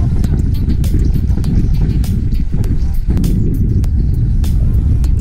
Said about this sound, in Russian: Водитель Хонды, воодушевленный невероятными возможностями своего автомобиля, решил проскочить по болоту.